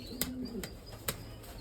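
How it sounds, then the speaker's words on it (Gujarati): A Hungarian pigeon coos softly, a low rolling warble heard close by, with a few sharp clicks and knocks around it. "આપણે એક કબૂતર છે એ આપણે લાવ્યા છીએ"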